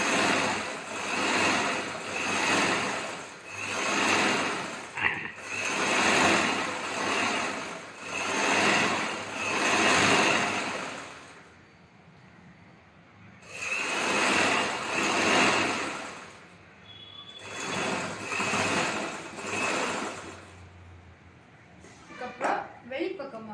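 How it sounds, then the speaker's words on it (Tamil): A sewing machine stitches the edge of chudithar fabric in a steady whirring rhythm, running in several bursts of a few seconds each with short pauses between. "அதனால நம்ம துணி ஓரமாக தைச்சிக்கணும்."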